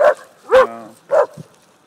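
A Great Pyrenees guarding sheep barks at poodles, giving three short, loud, deep woofs spaced about half a second apart, the last trailing into a brief low grunt, close by with no talking.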